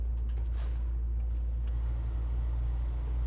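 Off-road truck engine in a video game, a steady low rumble held close and even throughout, with no voices over it.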